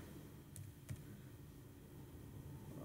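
Quiet typing on a computer keyboard, a few soft scattered clicks over low background hiss, close but faint, with no talking.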